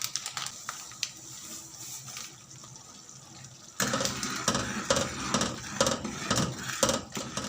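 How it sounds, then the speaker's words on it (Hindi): A spoon stirs apple jam with strawberry jelly mixed in, cooking in a pot over a high flame. Soft stirring at first gives way to louder, continuous wet bubbling and scraping, close and without talking. "इसको हम हाई फ्लेम पे चम्मच हिलाते हुए पकाएंगे।"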